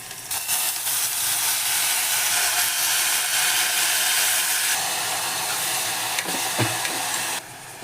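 Fenugreek leaves fry in a hot pan with onion and green chillies, giving a loud, steady sizzle and hiss that runs almost unbroken, with a brief clatter of stirring near the end and no talking.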